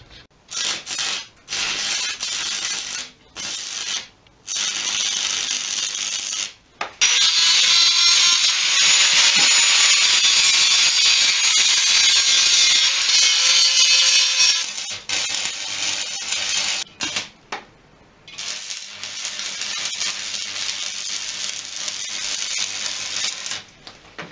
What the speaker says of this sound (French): il n'y a plus qu'à souder ces barres de maintien